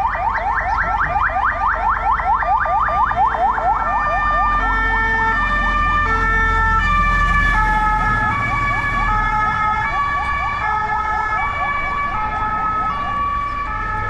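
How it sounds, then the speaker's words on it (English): Fire truck sirens responding to a city fire on the promenade in Saranda, Albania, wailing and yelping in fast alternating sweeps, loud and fairly near over road traffic rumble. "it's the first fire trucks I've heard"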